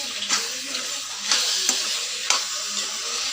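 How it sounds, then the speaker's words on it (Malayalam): Cooked chicken being stirred into curry in a pan, with a soft steady sizzle broken by a few scraping strokes of a spoon about once a second. "അതിട്ടിട്ട് നന്നായിട്ട് ഇളക്കി കൊടുക്കാം."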